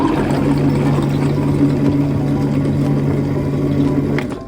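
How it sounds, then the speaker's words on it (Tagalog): Hot water pours steadily into a cup for barley tea, a continuous close splashing stream with a low hum beneath, running unbroken for several seconds before tapering off at the end. "So, lagyan ko ng init na tubig."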